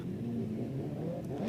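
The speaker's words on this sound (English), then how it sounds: "I think they're trying to do donuts down here" A race car at Airport Speedway's Battle at the Bullring revs while doing donuts, a continuous mid-pitched engine drone rising and falling, moderately distant, no voices.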